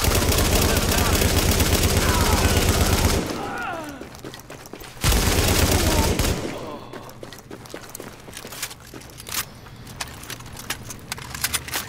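An M60 machine gun fires in The Division video game, a dense, loud sustained burst for about three seconds, a pause, then another short burst, followed by scattered clicks and movement noises.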